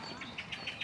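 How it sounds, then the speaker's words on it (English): Songbirds chirp in a Zürich park in spring, repeated short bright calls spaced about every half second, faint and somewhat distant over a soft outdoor background. "Oh, you hear the birds as well."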